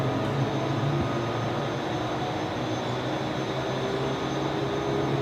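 An Emirates airliner taxiing at Brisbane Airport at night gives off a steady, droning engine rumble with a constant whine, heard from a moderate distance with no breaks.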